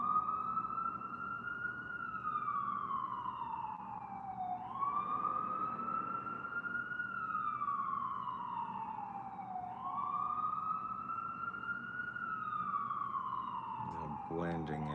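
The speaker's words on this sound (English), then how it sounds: "sirens of New York." An emergency vehicle siren wails on a New York street, rising and falling in slow, repeated sweeps at a moderate distance, with a brief clatter near the end.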